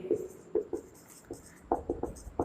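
Marker or chalk taps and short strokes while an equation is written on a board during a physics lesson, an irregular series of quick, close, moderately faint scratches with no speech.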